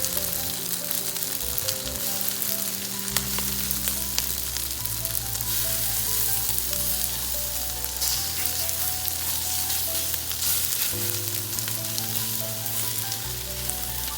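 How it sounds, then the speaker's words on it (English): Gulf shrimp browning in hot oil in a pan for pad thai: a loud, unbroken, close-up sizzle running the whole time, with a low tonal layer of music beneath it. "I'm going to brown my shrimp"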